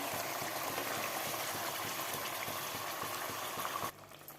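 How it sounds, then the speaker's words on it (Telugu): Chicken pieces coated in masala cook in oil in a pot for Karnataka-style chicken dum biryani, giving a steady, dense bubbling sizzle throughout that drops off sharply near the end, with no talking. "నూనెలో మసాలాలతో చికెన్ బాగా ఉడికింది."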